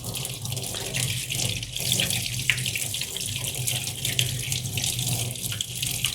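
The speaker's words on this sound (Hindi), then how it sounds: "इसको अच्छे से हम क्लियर कर रहे हैं, साफ़ कर ले रहे हैं पानी से" Running water splashes and gushes continuously as an air cooler motor is rinsed clean, a steady moderate wash of flowing water with no talk.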